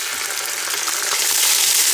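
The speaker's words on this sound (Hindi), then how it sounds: "अब हम इसमें लहसुन अदरक डाल देंगे।" Garlic and ginger hitting hot oil with browned onions and whole spices, a loud continuous close sizzle and frying hiss throughout, no talking.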